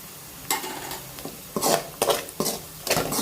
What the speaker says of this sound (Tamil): போட்டு நல்லா மிக்ஸ் பண்ணி விடலாம்.